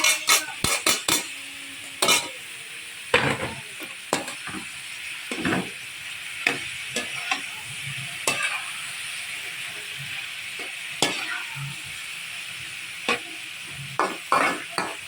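Mixed vegetables and Baguio beans frying in a pan for egg sipo, with steady sizzle under repeated sharp scrapes and clinks of a utensil stirring against the pan.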